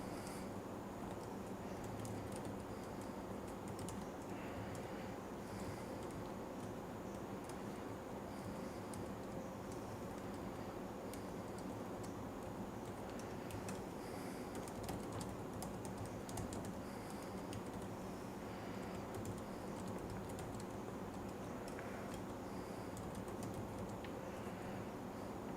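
Steady faint keyboard typing of code runs on and on beneath a constant broadband hiss, the individual keystrokes soft and blurred together, with no talking.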